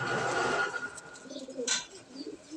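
A male Laldoma pigeon coos in a close, soft, throaty run of low calls that rise and fall over a few seconds, with faint background noise and no speech.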